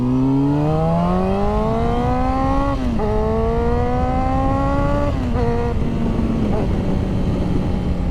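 A motorcycle engine hums steadily while riding, its tone rising gradually, dipping briefly, then climbing again through the gears under a constant rush of wind.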